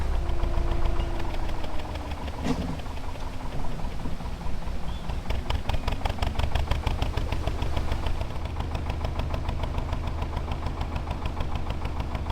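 Narrowboat diesel engine running steadily while reversing on a windswept canal, a continuous low knocking chug that holds throughout, with steady wind and rain-like noise behind it.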